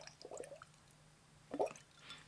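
Air blown through a straw into water makes short bursts of bubbling, one soft gurgle early and a louder burble around the middle, close and quiet with pauses between.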